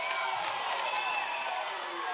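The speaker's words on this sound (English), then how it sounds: "Oh, the crowd's calling for it." Volleyball gym crowd clamoring for a disputed line call at a high school match, a dense steady roar of voices and shouts with scattered claps, sustained and fairly loud throughout.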